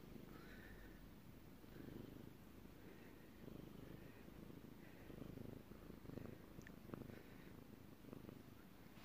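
Steady, soft purring from a cat close by, a continuous low rumble with a few faint higher noises on top.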